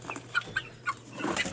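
Plymouth Rock chickens give several short, close clucks spaced unevenly, ending in a busier run of overlapping clucking against a quiet background.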